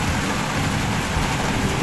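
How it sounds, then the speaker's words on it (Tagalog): Heavy rain pours outside during a thunderstorm in Hong Kong, a dense, steady broadband hiss that fills the short stretch evenly without talk. "Ang lakas po ng ulan sa labas."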